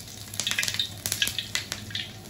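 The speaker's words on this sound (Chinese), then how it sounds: "花椒下锅炸一下" Sichuan peppercorns frying in hot oil, a close sizzling crackle with rapid rhythmic bursts of spattering and light stirring clinks.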